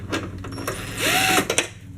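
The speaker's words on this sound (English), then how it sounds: "Power tools rock." A power tool such as an impact driver or drill whirs in short bursts while working on the serpentine belt of an LT1 engine in an Impala SS, with a sustained loud whine in the middle and engine-bay clatter around it.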